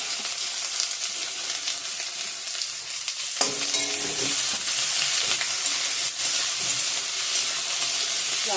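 Chicken neck and gizzard frying in hot oil together with chopped onion and garlic, a steady close sizzle that grows louder and crackles more as the ingredients hit the pan, with occasional stirring, no talk.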